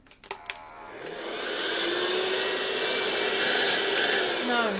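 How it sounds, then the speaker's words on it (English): A Best Tech vacuum cleaner with a HEPA filter starts up after a few clicks and then blows air with a loud, steady whoosh, its motor pitch rising and settling. "it's got a HEPA filter, so you know, it's designed for vacuuming"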